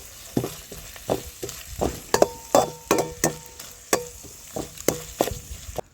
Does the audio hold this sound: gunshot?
no